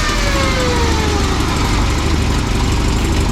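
A first-generation Toyota 4Runner with an exhaust leak idles close by, giving a steady, loud, even rumble with a rough, raspy edge and no talking.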